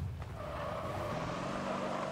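A Warthog in Halo Reach drives along with a steady engine drone and rolling tire noise, holding an even level for two seconds with no voices.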